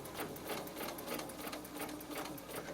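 A sewing machine quilting a pillow design runs in a short burst of close, rapid stitching, with steady pulsing throughout.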